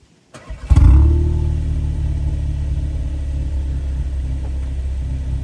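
From inside the cabin of a 2025 Volkswagen Polo GTI, a sharp ignition crank catches into a loud engine and exhaust burst, then settles into a steady, deep idle rumble that holds alone to the end.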